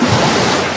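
Waves wash on the sandy shore at Lubo, Batangas, a dense, loud hiss of surf and wind buffeting the microphone, close and continuous through the brief moment with no talking.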